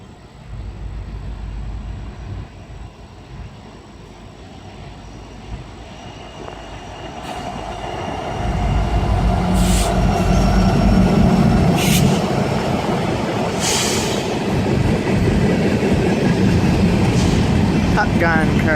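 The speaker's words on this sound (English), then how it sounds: "Another coal train coming." A Norfolk Southern SD70ACE locomotive hauls an empty coal train through Cresson, Pennsylvania, starting as a distant rumble that swells into a loud, close roar of engine and rolling wagons, with wheel squeals and clatter.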